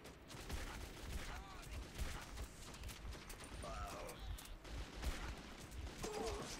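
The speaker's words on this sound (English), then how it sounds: "I'm trying to fire a gun as fast as Borderlands 2 right now" Gunfire in the video game Metro 2033, a dense, fairly quiet stream of rapid shots and mechanical clatter with faint game sounds layered over it.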